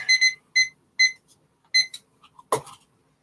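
A timer alarm goes off, sounding as a few sharp, evenly spaced electronic beep bursts before a short knock or clatter, fairly clear with no talk over it.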